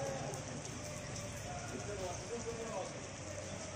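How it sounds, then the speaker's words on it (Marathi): Light morning rain falls outdoors at Alephata, near parked pomegranate trucks, making a steady, even hiss that holds level throughout without breaks. "पाऊस पाहू शकता आपण, थोड्या प्रमाणात आहे पण पाऊस सकाळीच चालू झाला आहे"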